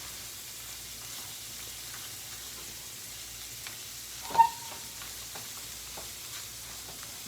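Cooked potatoes frying in oil in a pan make a steady, soft sizzle throughout, with one brief louder pop or clatter partway through; nobody speaks.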